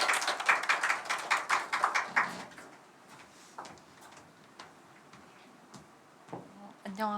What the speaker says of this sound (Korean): 박수로 초대하겠습니다